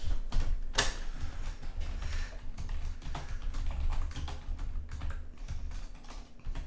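Typing on a computer keyboard in an indoor room comes through as a steady run of dense, close clicks and taps lasting the whole stretch, with a louder knock near the start and no talking.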